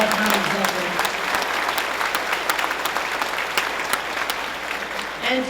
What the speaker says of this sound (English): let's give a round of applause to our town executive